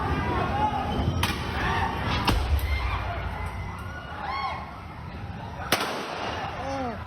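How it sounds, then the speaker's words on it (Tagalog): Police fire gunshots at a holdup suspect on a street, several sharp cracks spread over a few seconds amid crowd noise and people shouting, with a nearby siren-like wail rising and falling. "Umalingang mga putok ng baril."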